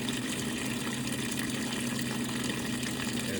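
Hot water gushes steadily into a washing machine tub, filling it for a load of whites; a continuous close rushing pour with a low pump-like hum underneath, no talking.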